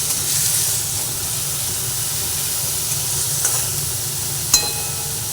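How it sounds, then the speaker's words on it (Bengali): Onion and garlic fry in a pan of hot oil with a constant sizzle and hiss. A few small clinks and stirring sounds come through, and no one speaks. "পেঁয়াজ আর রসুন দুটো ভাজা ভেজে নিতে নিতে"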